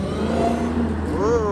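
A Dodge Hellcat Redeye's engine holds a steady, deep drone that swells into a brief rising rev near the end, loud and close.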